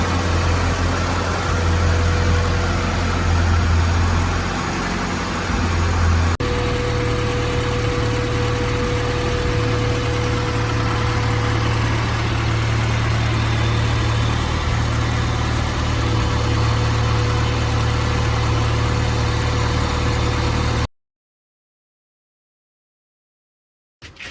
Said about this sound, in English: Valve train's just noisy.